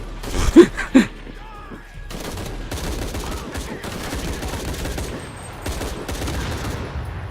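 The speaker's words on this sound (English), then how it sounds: "I've got a light machine gun." Light machine gun fire in Shadow of the Tomb Raider, a couple of sharp loud shots first, then sustained rattling bursts of automatic fire with short gaps between them.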